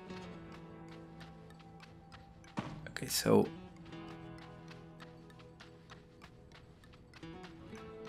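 Quick, regular clicking footsteps of a skeletal character in a video game tap along steadily, mixed with other game sounds and a brief louder burst, while a person speaks briefly.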